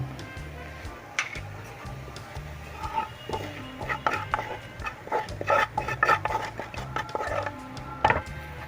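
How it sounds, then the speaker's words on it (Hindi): Poppy seeds go into browned frying onions in a pan and are stirred, giving soft sizzling with clustered scraping and tapping of a spoon against the pan, close by, alongside low background hum and a little speech. "अब इसके अंदर हम इस खशखश को डाल देंगे"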